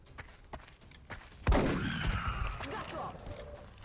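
A single loud shotgun blast in XCOM: Long War, sudden and close, followed by a ringing, crackling tail that fades over a couple of seconds above quiet background ticks.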